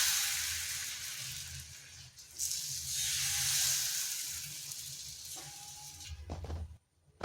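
Potato and semolina dosa batter sizzles on a hot pan as it is poured and swirled, a bright hissing crackle that swells and fades, ending with a few scraping clinks, close and with no talk.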